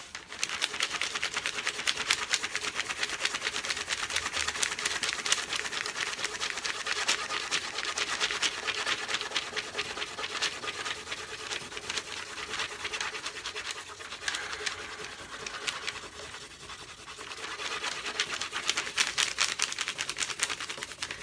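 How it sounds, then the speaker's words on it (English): A red crayon is scrubbed hard back and forth across a sheet of paper, a continuous dense scratchy rasp close up, steady for the whole stretch with no voices. "now we're going to draw as hard as we can all over this paper"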